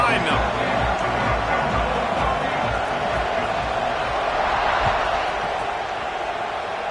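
A large stadium crowd at an American football game roars in a steady, dense wash of cheering and noise as the kickoff approaches, with a commentator talking over it.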